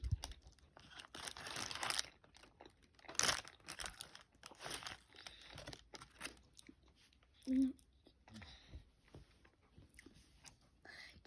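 Chewing a Taco Bell burrito with chicken, beans, cheese, lettuce and sour cream: close wet crunching and bites alongside crinkling wrapper noises, in irregular bursts with quiet pauses.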